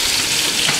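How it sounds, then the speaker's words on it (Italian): Chocolate treats fry in hot oil with a steady, close, loud sizzle and crackle that fills the short moment without pause. "Cioccolini fritti, poco fa erano da friggere."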